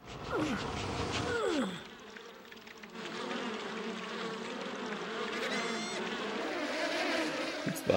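Swarm of bees in Piglet's Big Game, a continuous layered buzzing drone that holds steady throughout, with a few sliding game effects near the start.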